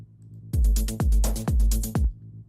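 A deep techno synth bass plays four punchy, evenly spaced notes, each with a booming low thump and buzzy decay, soloed and loud.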